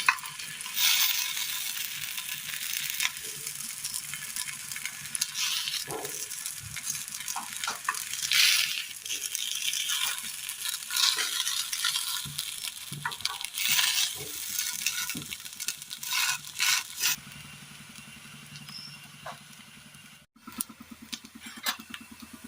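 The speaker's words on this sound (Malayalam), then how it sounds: "അങ്ങനെ ഇരുപുറവും നമ്മളത് റോസ്റ്റ് ചെയ്തെടുത്തിട്ടുണ്ട്" Small pieces of snack dough roast in a hot pan and are turned over one by one, giving a soft continuous sizzle broken by light taps and scrapes, close and fairly quiet, with a brief pause near the end.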